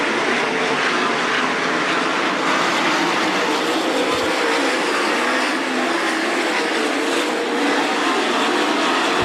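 410 sprint cars racing a dirt oval at Attica Raceway Park, a continuous loud roar of engines from the grandstand that stays dense and steady throughout, with no talking over it.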